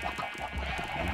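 Chickens clucking in the Minecraft video game, a soft steady run of game fowl sounds lasting about a second at low level, with no talk.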